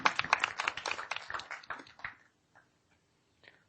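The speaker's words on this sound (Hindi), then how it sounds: "जोरदार जोरदार ताली संजय भैया के लिए।" A small group of people clap for a participant during an online study camp session, a burst of quick close claps for about two seconds that thins to a few scattered claps and then quiet.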